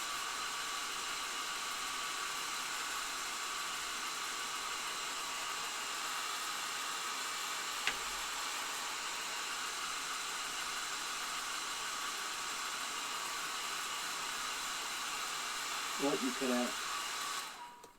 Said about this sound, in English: before you started revving up your hair dryer